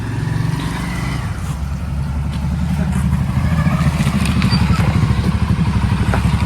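A motorbike engine idles and then pulls away, its putter rising into a louder, steady rhythmic chug as it rides off nearby, with faint background voices.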